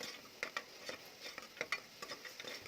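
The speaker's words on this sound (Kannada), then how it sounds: "ಶುಂಠಿ ಬೆಳ್ಳುಳ್ಳಿ ಪೇಸ್ಟ್ನ ಹಾಕ್ಕೊಂಡು ಅದನ್ನು ಕೂಡ ಹಸಿ ವಾಸನೆ ಹೋಗೋವರೆಗೂ ಚೆನ್ನಾಗಿ ಫ್ರೈ ಮಾಡ್ಕೊಳ್ಬೇಕು" Ginger garlic paste frying in a pan while being stirred for a poori kurma, giving a steady soft sizzle broken by light scraping taps of the spoon, fairly close and with no talking.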